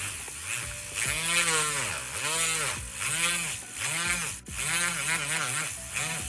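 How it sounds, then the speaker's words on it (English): Battery-powered mini grinder cutting a part of a model ship mast, its motor whining in repeated rising and falling bursts of about a second each, close and fairly loud. "the mini grinder is almost out of energy because it didn't have time to charge"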